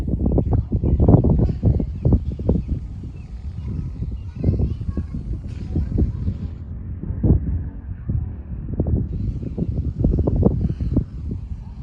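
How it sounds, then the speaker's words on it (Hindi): Wind blows across an open rooftop in gusty, rumbling bursts that buffet the microphone, loud and close, rising and falling throughout. "हवा चल रही है मस्त।"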